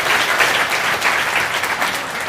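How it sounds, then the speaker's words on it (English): Audience applause at a Robinhood product launch event, steady dense clapping from a crowd filling the whole stretch at an even loudness. "And you guys can clap."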